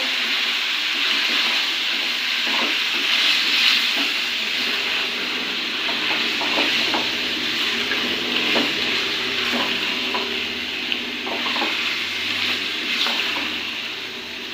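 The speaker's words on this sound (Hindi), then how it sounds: "हम इसको 3 से 4 मिनट के लिए ऐसे भून लेंगे।" Potatoes, tomatoes and minced keema fry in a hot pan, a steady broadband sizzle running throughout with repeated scraping and clacking of a spoon as the mixture is stirred, close and fairly loud with no talk.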